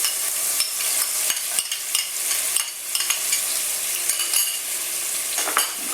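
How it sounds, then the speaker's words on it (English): Minced onion with green and red pepper being stirred in a hot pan, a steady sizzle and fry broken by repeated scrapes and clinks of a utensil against the pan, close and continuous with no talking. "Okay, give that a little stir around."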